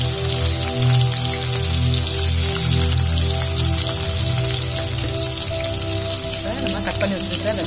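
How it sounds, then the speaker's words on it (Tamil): Sliced onions and fennel seeds sizzle in hot oil for a Tamil curry leaves chicken dish, a steady close crackling fry with a continuous bubbling hiss throughout. "வெங்காயத்தை ஆட் பண்ணிக்கலாம்."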